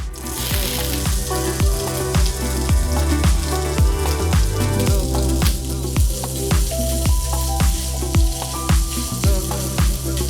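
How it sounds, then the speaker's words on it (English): Steady frying sizzle from onions in a hot pot, heard beneath loud rhythmic background music with a regular beat. "I'm gonna throw the onions into the pot."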